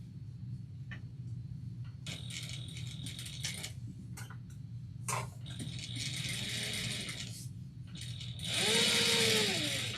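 Sewing machine top-stitching a quilt binding with a presser foot, heard as a fairly quiet, steady motor whir with intermittent bursts of stitching and some clicks and handling noises, no talking.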